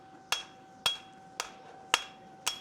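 A hammer strikes metal on the rounded edge of an anvil while forging a Z-bar, five sharp ringing blows spaced about half a second apart, close and clear with a short metallic decay.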